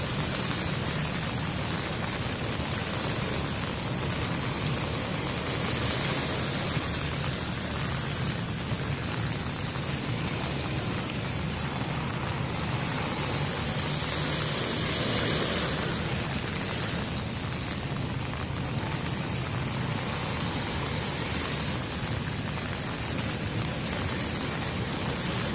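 Rain falls at Manila Bay, a steady dense hiss of drops that stays even and fairly loud throughout, swelling slightly at moments, with no talk.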